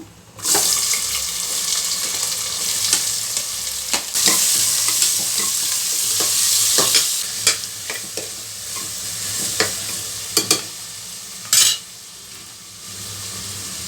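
Onions sizzle in hot oil with whole spices for mutton gojju, a steady bright frying hiss with the scrape and clink of stirring throughout, close up and without talk.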